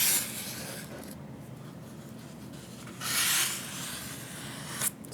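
A homemade squeegee scrapes and smooths material across a foam board model aircraft during a build, giving steady rubbing strokes with a few louder swipes, close up and without talk.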